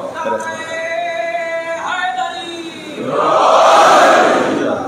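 A religious gathering's crowd roars the Nara-e-Haidari chant for Imam Ali during a Muharram sermon: after a sustained, tonal call-like voice, many voices swell together into a loud, broad collective shout that holds and slowly eases.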